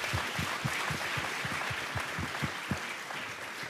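Audience at the UN Youth Climate Summit clapping in a steady, rhythmic patter that continues evenly for several seconds with no talk over it.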